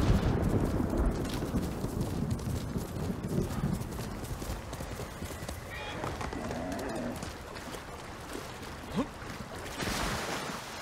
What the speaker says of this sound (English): Fucking horse won't go through this water.